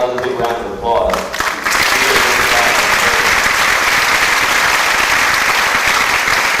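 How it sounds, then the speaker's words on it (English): Someone speaks briefly, then loud audience applause breaks out at a Miss & Little Miss Strassenfest pageant and carries on as a steady, dense wave of clapping. "Give it all another big round of applause."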